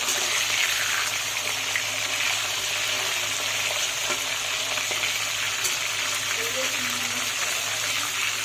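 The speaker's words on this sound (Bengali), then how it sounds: "এখন মাছটা ভাজি।" Fish frying in oil in a pan, with a steady, loud sizzle and crackle throughout and faint kitchen clatter underneath.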